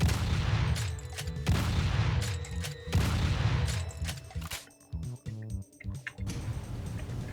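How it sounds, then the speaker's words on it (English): A rocket launcher in Doom fires on the Marax Dungeon map, several heavy booming blasts in quick succession, loud and close, then smaller thuds and rumbling explosions as the volley tails off. "I love the feedback that the rocket launcher gives you"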